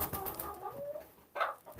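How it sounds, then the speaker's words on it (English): Chickens in a coop during corn feeding give short clucks and bird calls, close by and moderately loud, with a sharper call near the end. "one of the chickens is trying to jump at my phone"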